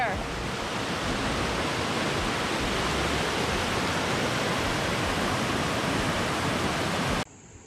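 Water rushes down a natural rock water slide in a loud, unbroken roar that runs for about seven seconds, then cuts off abruptly, with no voices.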